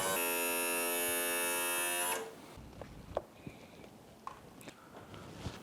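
A Mercury 200 outboard motor's power trim runs with a steady, loud electric whine for about two seconds, then stops and leaves quieter handling noises and a few small knocks.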